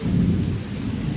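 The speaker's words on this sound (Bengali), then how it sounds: "বৃষ্টি।" Rain falls steadily outdoors at Nandankanan Zoo in Bhubaneswar, a dense, close wash of drops with low rumbling underneath, brief and without talk.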